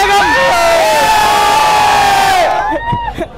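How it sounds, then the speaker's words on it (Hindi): A dense roadside crowd at a Kawad Yatra DJ procession roars and cheers, loud and continuous with whoops and shouts, then thins into scattered yells near the end. "तो आप देख सकते हो किस प्रकार से भीड़ है, ब्लॉक कर रखा है, जाम कर रखा है पूरा रोड।"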